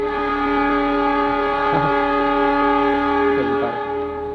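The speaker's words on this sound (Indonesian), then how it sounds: "suara kereta, biarin lah" A train rumbles by with a steady, sustained horn-like tone droning throughout, loud and close.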